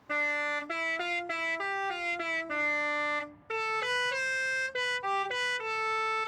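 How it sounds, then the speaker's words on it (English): The Halo theme Part 1 car horn from Forza Horizon 5 plays as a loud, clear series of sustained tonal horn notes stepping through a melody, with a brief gap midway and no talk. "and also the Halo theme Part 1 car horn,"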